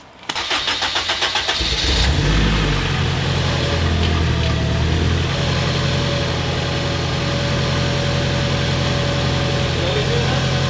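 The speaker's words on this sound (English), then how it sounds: "Exhaust is rattling on something." A turbocharged K24 Honda Civic engine cranks and catches, then runs loudly at a steady idle with a persistent buzzing exhaust rattle underneath; no one speaks.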